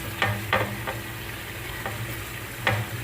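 Tomatoes stirred into frying onions and chillies in a pan for biryani: a steady close sizzle with several sharp spoon scrapes and clacks against the pan, no talking.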